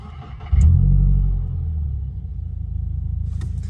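A 2022 Subaru WRX engine cranks and catches with a loud rumbling flare, then drops into a steady, smooth low idle pulsing evenly nearby.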